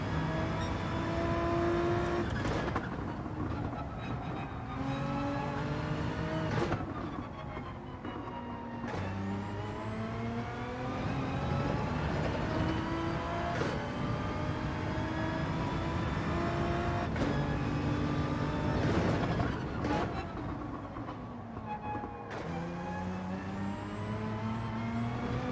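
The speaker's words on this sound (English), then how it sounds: "That Porsche is so good through that first sector" Porsche race car engine in Gran Turismo 7 during a daily online race, revving loudly and continuously with rising and falling pitch through gear shifts, other cars audible around it.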